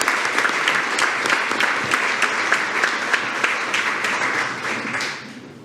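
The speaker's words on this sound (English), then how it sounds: "Let's give our band programs and directors a great round of applause." A school district board meeting audience applauds band programs and directors: a sustained round of clapping with individual claps audible in the mix, loud and steady before tapering off at the end.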